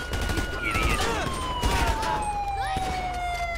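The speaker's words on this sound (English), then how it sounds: "Still shooting at me, he's not giving up." Gunfire exchange in GTA V during a police shootout at a club, dense crackling shots under a wailing siren that sweeps steadily through the scene, with faint voices in the background.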